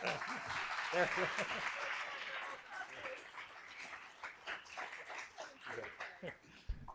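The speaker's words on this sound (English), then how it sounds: "Give her a round of applause." Audience applause for Congresswoman Pramila Jayapal, strong at first and thinning into scattered claps with voices and chatter mixed in as it fades.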